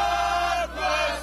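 Hundreds of people cheer and shout together in a New York street celebrating the death of Osama bin Laden, a loud, dense crowd roar with a brief dip midway through the short burst.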